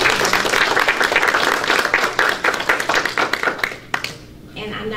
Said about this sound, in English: give these Teachers of the Year a big round of applause